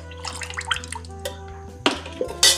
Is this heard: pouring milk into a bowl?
yes